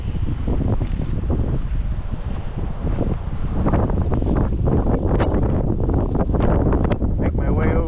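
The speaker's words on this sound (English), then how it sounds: "hear the wind." Wind blowing across an open creekside park, a steady broadband rush that stays loud and constant throughout, with gusty buffeting on the microphone and no clear speech over it.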